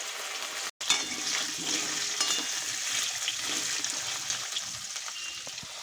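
Cubes of taro and potato hiss in hot oil seasoned with cumin, bay leaf and dried red chilli, a brief silence giving way to a steady, even frying sizzle that stays moderately loud.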